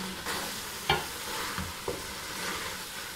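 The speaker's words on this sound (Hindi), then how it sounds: "तो देखिए 5 मिनट मैंने प्याज़ों को इसी तरह फ्राई किया" Onions frying in oil for a keema karela dish give a steady sizzle, broken by a few soft scrapes of stirring in the pan.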